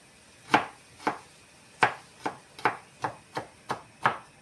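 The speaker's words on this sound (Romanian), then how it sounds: "Ceapa o tăiați cât doriți de mărunt." A knife chops an onion sharply on a cutting board, about ten crisp, close taps in an uneven rhythm with quiet gaps between.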